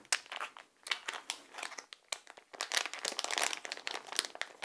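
A package of natural turkey pet food for dogs and cats is torn open by hand, producing loud, close, continuous plastic crinkling and crackling in irregular bursts.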